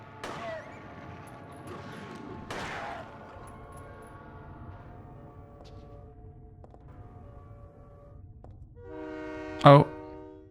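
Quiet rumbling ambience with a few soft thuds, then a loud, sudden train horn blast near the end, from the video game Silent Hill 3.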